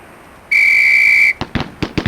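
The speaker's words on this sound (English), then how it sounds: "On the whistle." A sharp, loud whistle blast lasting under a second cues shooters at a firing range, followed immediately by a quick string of close, cracking gunshots in two pairs and more.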